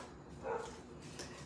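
A dog barks outdoors at a distance, a couple of faint, brief yelps rising just above the quiet background.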